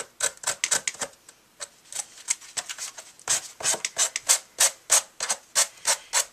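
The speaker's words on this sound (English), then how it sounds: "And then we're going to take the sanding block and just sand your corners." A sanding block rubs over paper corners on a magnet board sign in quick, rhythmic rasping strokes, close and crisp, with short pauses between bursts.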